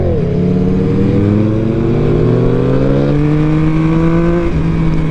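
Motorcycle engine on a track, Aprilia Tuono V4 or Yamaha MT-09 SP, revving loud and close as the rider misses a gear, the pitch dropping and then climbing steadily in a sustained high roar.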